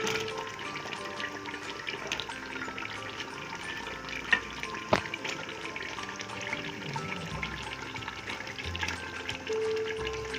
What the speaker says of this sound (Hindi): साथ ही मैं इसमें डाल देती हूँ चिकन को हम थोड़ी देर फ्राई करेंगे